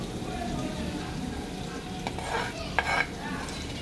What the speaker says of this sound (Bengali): এতে দেবো ওপর থেকে আমি টমেটো কুচি।